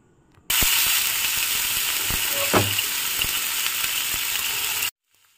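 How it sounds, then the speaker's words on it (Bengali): Water is splashed onto a hot frying pan being readied for dosa. A loud sizzle bursts in all at once, holds steady for about four seconds with a few small crackles, then cuts off abruptly. "এবারে জলের ছিটা দেবো আমি"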